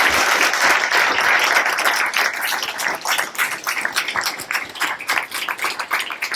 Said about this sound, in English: let's just give them all a round of applause